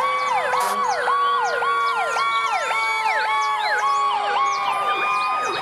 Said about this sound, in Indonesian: Ada mobil pemadam kebakaran.